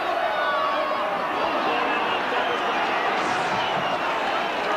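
A stadium crowd at a 1997 Wigan versus Bradford rugby league match reacts to a referee's decision with a loud, sustained roar of massed voices that holds steady throughout.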